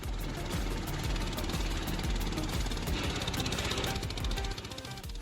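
A homemade automatic firewood processing and wood splitting machine chugs away nearby with a fast, even mechanical knocking and a steady engine drone, running on its own without any voices.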